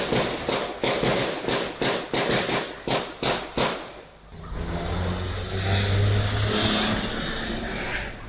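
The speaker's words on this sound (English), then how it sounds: "you just hear a couple of cars speeding pretty quick down the street" Cars speed down a street after a burst of gunfire: a run of sharp, evenly spaced bangs gives way to a loud, sustained engine roar and rushing road noise.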